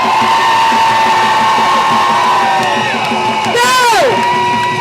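A large crowd of Los Angeles teachers cheers and shouts at a labor rally, a loud continuous roar of many voices with a rising whoop near the end.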